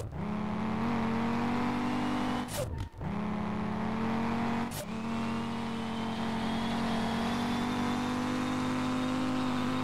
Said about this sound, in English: Now, this is a good sounding car.